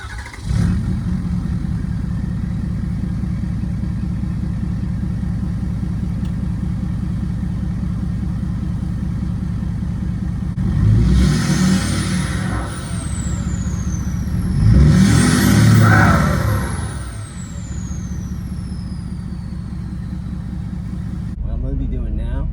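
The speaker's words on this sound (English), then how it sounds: "I'm just gonna drive along the side of this whole canal here" A truck drives along a canal in South Florida, its engine a steady low rumble that swells twice as it speeds up, with someone talking over it.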